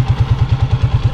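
A Honda TMX motorcycle engine on a test ride pulses as a close, rhythmic low thumping, its beats evenly spaced and steady, with no talking.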